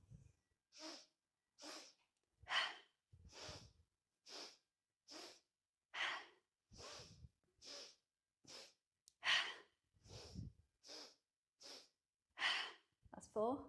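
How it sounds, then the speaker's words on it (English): Rhythmic yoga breathing during a morning flow session: steady series of about sixteen sharp, close nasal inhales and exhales, evenly spaced and fairly loud, with no talking. "Inhale for 1, inhale for 2, inhale for 3, exhale."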